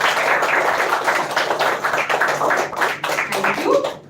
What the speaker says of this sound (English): I guess we can clap a little more.